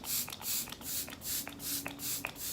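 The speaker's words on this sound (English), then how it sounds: "I use my e.l.f. setting spray, and I'm going to set the setting powder." e.l.f. setting spray misted onto a face during a makeup routine, heard as a series of short hissing spray bursts in an even rhythm, close and soft, with no talking.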